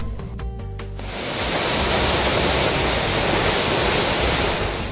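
Broketut Waterfalls in Jibang village, Plateau State, pouring as a steady, loud, continuous rushing roar that swells in after about a second and holds unbroken to the end.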